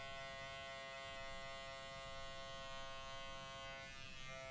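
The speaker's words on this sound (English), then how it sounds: "she's gonna blend with the corner of the clipper" Electric hair clipper buzzing steadily and close up while blending a fade haircut with the corner of the blade, a continuous even hum with no talk over it.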